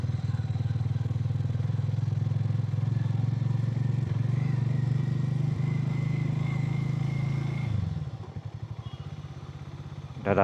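A motorcycle on a ride toward a place called Dumraj holds a loud, steady low engine drone for about eight seconds, then drops off sharply into a choppy, fluttering putter, as if slowing or idling, before surging again at the end.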